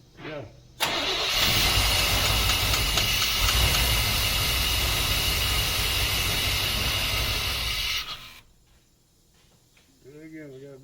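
A 1989 four-wheel-drive Chevrolet Suburban engine with an exhaust leak bursts into a loud, hissing, rumbling roar that holds for several seconds and then drops back, with a brief voice near the end.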